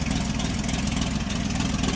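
Engine of a bright red 1941 Chevrolet Special Deluxe Coupe with a single-barrel carburetor running steadily: a loud, continuous low rumble throughout, with no talk.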